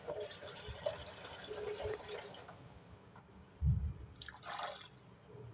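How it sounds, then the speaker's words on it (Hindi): Water poured from a glass into masoor dal in a cooking pot, a brief splashing pour with dripping, moderately close with faint background noise. "अब इसमें हम ऐड करेंगे पानी।"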